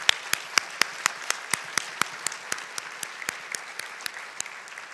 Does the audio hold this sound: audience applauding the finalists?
yes